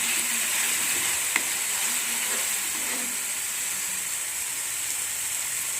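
A steady, loud sizzle of garlic and ginger frying in hot oil, hissing evenly throughout with one brief tap of a utensil.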